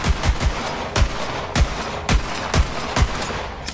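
A fire pistol in Borderlands 3 fires eight sharp, loud, evenly spaced shots, each with a booming low thump, heard alone.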